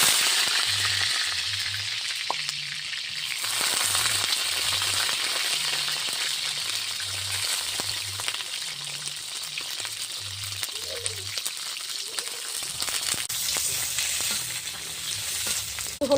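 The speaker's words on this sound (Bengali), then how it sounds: "প্রথমে সরিষার তেল দিয়ে নিলাম কড়াই। এক এক করে সব ভেজে নেব। প্রথম বেগুনটা ভেজে নেব।" Eggplant fries in mustard oil in a wok, a continuous close sizzle with occasional stirring clicks and a low hum pulsing underneath, and no talking.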